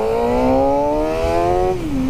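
A 2016 Suzuki GSX-R 600 motorcycle engine running while riding on the highway gives a loud, steady high-revving drone that dips in pitch near the end, with no voices.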